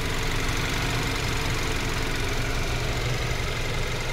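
A Kia Carens 1.5-litre turbocharged petrol engine runs steadily up close, a loud, dense, even drone with no change in pace and no talking.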